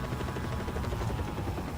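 A helicopter-like aircraft in the video game Just Cause 4 comes in to land, its rotor thumping steadily and loudly in a dense continuous drone.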